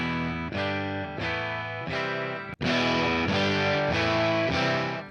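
Heavily distorted electric guitar chords strum in a steady rhythm, sustaining between strikes, then grow louder and thicker after a short pause.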